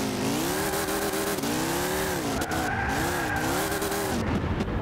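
Tires skid continuously as a car drifts in Gran Turismo 6, a loud, wavering squeal with engine tone rising and falling for the whole stretch, no voices.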